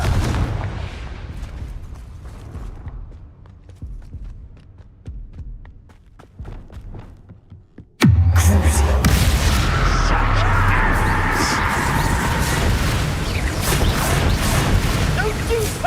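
Confringo spell explosions go off in the video game Hogwarts Legacy, first as scattered sharp cracks and then as a sudden loud, sustained roar of booms and crashes, with a voice speaking now and then.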